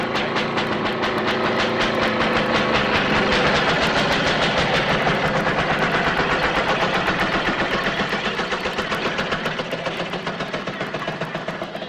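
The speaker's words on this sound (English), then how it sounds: "Trains come through the tunnel." A train rumbles through a tunnel loudly with a rapid, regular clatter of wheels, its roar reverberating in the enclosed space and easing slightly toward the end.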